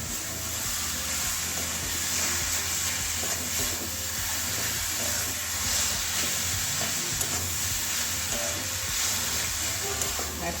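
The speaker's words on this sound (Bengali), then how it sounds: "একটু ভালো করে ভেজে নিচ্ছি জলটা যাতে পুরোটা শুকিয়ে" Grated carrot fries in ghee in a pan, giving a steady, dense sizzle that runs unbroken and fairly loud, with faint stirring scrapes mixed through.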